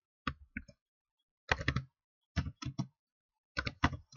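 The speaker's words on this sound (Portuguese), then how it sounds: "e vou digitar aqui" Keys tap on a computer keyboard in short bursts, small clusters of crisp clicks separated by pauses, close and distinct in an otherwise quiet room.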